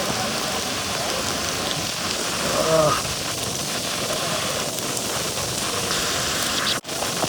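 Monsoon rain falls steadily at Lavasa, a constant dense hiss of drops with a brief louder swell partway through and one sharp dropout near the end; no voices are heard.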